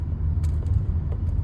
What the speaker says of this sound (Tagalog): traffic dito sa loob ng tunnel